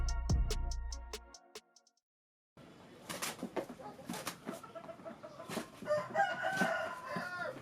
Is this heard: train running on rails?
no